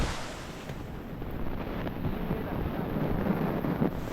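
Rushing water flows steadily in a stream beside rice paddies in the Konkan, a broad continuous wash with some wind buffeting the microphone.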